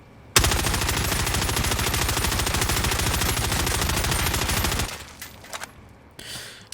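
Rapid sustained automatic fire from a FARA assault rifle in Warzone, one long unbroken burst of evenly spaced shots for about four seconds, then a few faint clicks and handling noises.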